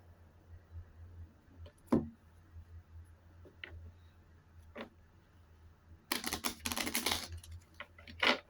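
A deck of playing cards is shuffled at home, several faint isolated flicks first, then a dense burst of rapid riffling near the end, close and quiet with no talking.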